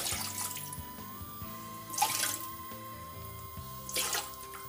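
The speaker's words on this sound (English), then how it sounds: "Be using these big pots to cook it, so I'll add water." Water pours steadily into a big cooking pot for unripe plantain moi moi, a continuous splashing rush that surges louder twice, with no talking.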